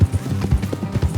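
Horse hooves clip-clopping on a road in Red Dead Redemption 2, a quick, close run of muffled low thuds in steady gallop rhythm.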